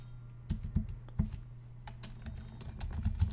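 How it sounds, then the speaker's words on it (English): Typing on a computer keyboard while filling in a resume template in Microsoft Word, with irregular close key clicks and a few louder taps spread across a steady low hum, no talking. "type your name,"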